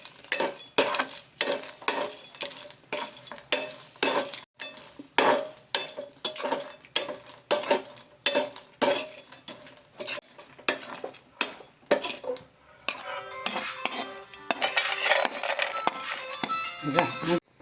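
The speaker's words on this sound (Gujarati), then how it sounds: "ખારેક નોર્મલી શેકી દઈશું।" A spoon scrapes and clinks against a pan as dry dates are roasted for Gujarati gond pak, giving steady, rapid close metallic stirring and knocking, with faint talk in the background.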